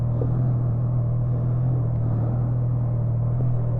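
A Triumph Trident 660 motorcycle idles steadily on a cold start, close by, with a loud, even, low engine drone that runs throughout without talk.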